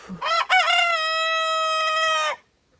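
A Brakel rooster crows once nearby, a loud drawn-out call that holds steady before cutting off into silence.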